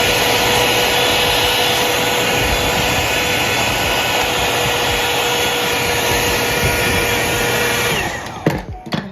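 A Hot Tools 24K Gold One-Step hair dryer and volumizer running on a steady loud whir with a constant high whine for about eight seconds, then switching off with a few handling clicks.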